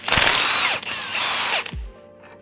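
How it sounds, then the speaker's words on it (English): A power tool, likely an impact wrench, zips a suspension nut off a bugeye Subaru WRX during a suspension overhaul, in two loud bursts of about a second each, then a short clunk and quiet shop background. "So we'll take this nut off."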